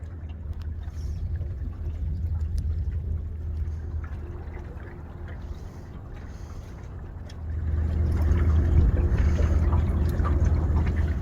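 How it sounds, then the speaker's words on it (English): A low, steady engine drone from a large barge passing nearby on a waterway near locks, growing louder and rumbling heavier toward the end. "Got a barge sneaking up on me here."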